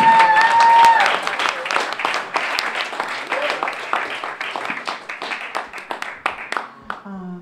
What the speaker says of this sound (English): I'd like all of us, as we did before, to give him a really big round of applause